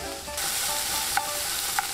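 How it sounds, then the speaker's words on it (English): Scallops sear in a hot pan with a steady, close sizzle and two brief sharp clinks partway through. "Once we got a nice little sear on our scallops,"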